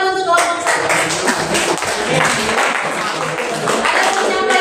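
A group of participants in an Indonesian classroom coaching session claps for the first group, a close, busy patter of hands that runs steadily through the whole stretch, with some voices mixed in.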